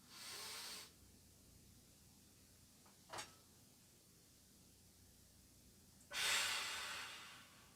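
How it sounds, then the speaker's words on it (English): A slow, deliberate breath drawn in during a bodyweight home workout exercise, a soft airy rush heard alone in a quiet room, with a brief sharper breath sound between two longer inhalations. "slowly going to extend overhead to come back up again, and breathe out. Breathe in."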